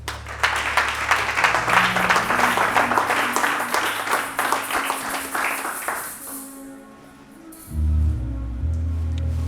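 A church congregation bursts into sustained, dense applause with cheering voices for several seconds, then the clapping fades out and organ-like music chords come in.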